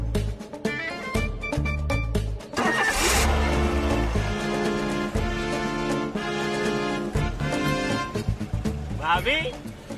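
A car engine cranks, catches and keeps running, its steady mid-pitched rumble heard close under continuous overlapping talk and background music.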